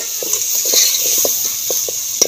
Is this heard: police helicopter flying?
no